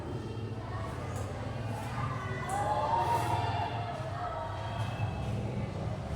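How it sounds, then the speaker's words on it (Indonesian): A classroom group of students clapping and cheering for their classmates, a steady wash of applause and voices lasting several seconds at moderate level. "Kasih aplaus dulu untuk kelompok 1"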